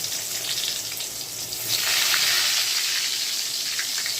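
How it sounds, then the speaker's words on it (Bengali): Slices of eggplant, washed and coated with turmeric and salt, sizzle and hiss steadily in hot oil, a dense crackling fry that swells slightly partway through, with no talking. "বেগুন ভাজা হবে।"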